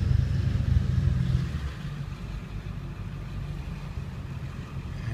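A 1965 Ford Mustang convertible rolls in with a low engine rumble that is louder at first, then settles into a softer steady idle-like hum.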